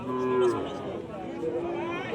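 A Sahiwal heifer lets out a long, low moo up close, followed by a softer second call over faint background murmur at a cattle market.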